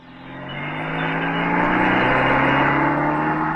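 A car pulls away, its engine rising steadily from quiet to a loud, sustained drone as it drives off nearby, with no talk.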